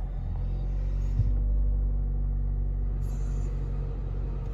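A 2020 Mazda CX-9 Touring idling, heard as a steady low rumble close by that stays even throughout, with no talk.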